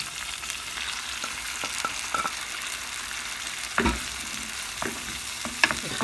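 Tomatoes stirred into merguez sausages frying in a pan, a steady sizzle with a few sharp scrapes and clicks of the utensil, close and clear with no talking.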